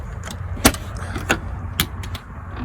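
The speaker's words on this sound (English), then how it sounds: "Got the keys now." Car keys jangle in several sharp, bright bursts, spaced unevenly and close to the microphone, as someone handles them beside a 1993 Mustang GT with suspected blown head gaskets; no one speaks.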